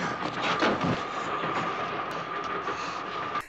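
A passenger train from the 1963 film From Russia With Love, a steady rumbling rattle of rolling carriages with a faint tonal whine, moderately loud and without talk.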